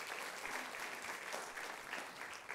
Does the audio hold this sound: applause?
yes